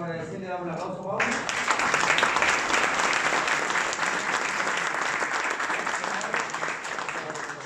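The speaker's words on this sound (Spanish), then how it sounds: "queremos agradecerle y dar un aplauso a Pablo." An audience breaks into loud, steady applause thanking a speaker after an online lecture on deep neural networks, starting abruptly after a brief voice and continuing evenly to the end.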